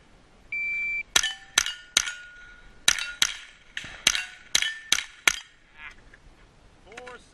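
Rimfire gunshots ringing off steel targets at a two-gun rimfire match: a shot timer's beep, then about eight sharp, evenly paced cracks, each followed by a bright metallic ring.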